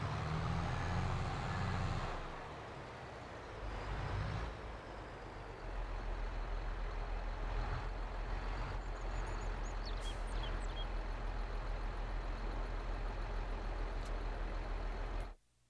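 A tractor pulling a trailer in Farming Simulator 22, its engine droning steadily and loudly for most of the stretch after an early surge, with faint higher clicks partway through before it cuts off.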